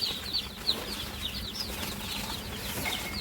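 Day-old chicks in a brooder give a continuous chorus of high, thin cheeping peeps, many overlapping at moderate loudness throughout, with no voices.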